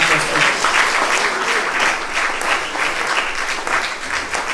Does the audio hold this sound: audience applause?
yes